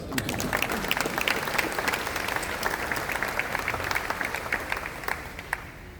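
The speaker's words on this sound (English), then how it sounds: "give yourselves a round of applause" Enthusiastic applause from a crowd at a press conference introducing South Florida's new head coach, many hands clapping loudly and continuously, fading slightly toward the end.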